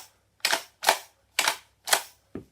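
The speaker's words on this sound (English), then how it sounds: "I'm just going to try pumping it without shooting it." A UDL Super 90 shell-ejecting Nerf shotgun pumped without firing, giving five sharp plastic clacks in quick succession, close and crisp with silence between strokes.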